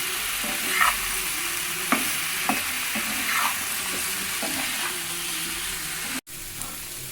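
Cauliflower fries in a pan with a steady, close sizzle, broken by several sharp stirring scrapes and clinks, with a brief dropout near the end.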